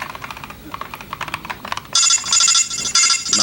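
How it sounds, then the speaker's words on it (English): A phone alarm goes off partway through, its bright, steady repeating tone sounding loud and close after a stretch of keyboard typing. "My phone alarm goes off sometimes."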